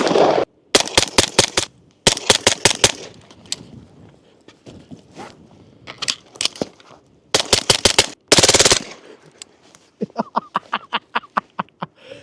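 Unsuppressed .45 ACP fire from a Stribog SP45A3 pistol-caliber carbine comes in sharp, loud rapid strings and bursts separated by short pauses, then a quicker run of shots near the end.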